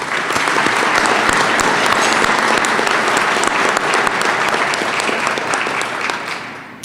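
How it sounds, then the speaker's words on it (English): Audience at a civic club luncheon applauding sponsors, dense sustained clapping from many hands throughout, tapering slightly at the close. "Please join me in offering an appreciative round of applause to our spring quarter sponsors"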